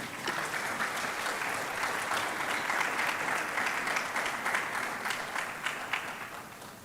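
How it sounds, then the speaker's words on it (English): An audience at a professorial inaugural lecture applauds a university official, a sustained, moderately loud spread of clapping that holds steady before tapering slightly at the end. "Shall we please applaud him?"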